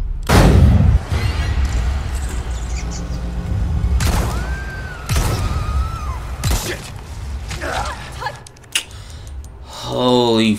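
Heavy gunshots in Resident Evil 4 Remake, a loud boom followed by several scattered shots and impacts amid game sounds and a shouting voice.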